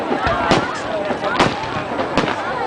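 Taiwan National Day fireworks burst in repeated sharp, booming cracks about once a second, loud and close, over crowd noise and people talking nearby.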